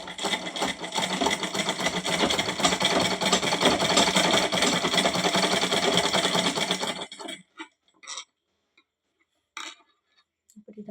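A sewing machine stitches a double-folded round hem on underwear in tailoring work, running steadily with a fast even whirr for about seven seconds, then stopping, followed by a few faint clicks and handling sounds.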